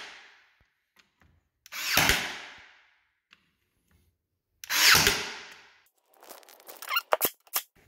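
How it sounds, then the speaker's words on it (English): A brad nailer fires into the corners and edges of a luxury vinyl plank stair tread, giving two loud, separate pneumatic bursts followed by a cluster of sharp clicks and knocks, with no talk. "Here's the tread after brad nailing in the corners and the edges."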